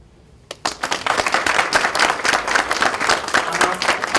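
Audience clapping erupts after a brief quiet start and keeps up as dense, steady applause from a crowd at a community health summit.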